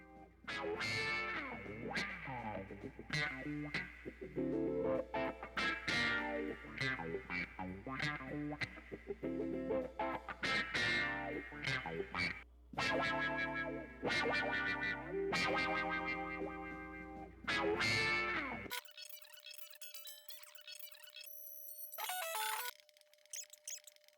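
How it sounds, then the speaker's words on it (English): Distorted electric guitar plays a busy riff with heavy effects for most of the stretch, then gives way to thin, high, filtered tones near the end as the crossover frequency is removed from the guitar in a mix. "You can really hear what pulling the crossover frequency out does on the guitar"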